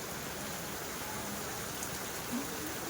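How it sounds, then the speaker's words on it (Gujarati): Heavy monsoon rain pours down steadily outdoors, a dense, even hiss with no pauses that fills the whole scene at a constant level. "જો ભાઈ વરસાદ ફૂલ આવ્યો છે"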